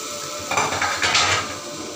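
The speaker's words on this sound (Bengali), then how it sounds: "ডালটাকে একটু ভালো করে ঘুটে নিয়েছি" A spoon stirs masoor dal in a metal cooking pot, a few scraping, clinking knocks against the pot sides close by, with no talk.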